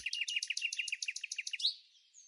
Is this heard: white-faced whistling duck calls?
yes